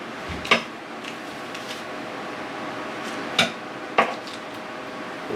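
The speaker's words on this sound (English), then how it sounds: "Mix up the dry ingredients." Dry dough ingredients are mixed in a bowl on a homestead kitchen counter. A utensil strikes the bowl a few times, making sparse, sharp, close clinks over faint background noise, with no talking.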